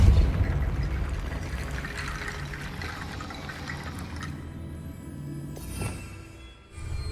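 A Depulso force spell cast in Hogwarts Legacy, heard as a rushing, pouring whoosh that fades into quiet, followed by a short burst near the end.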